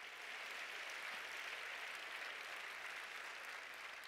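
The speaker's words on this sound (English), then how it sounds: "Give her a round of applause for poetry" Steady applause from a crowd, an even wash of clapping that holds for a few seconds without voices.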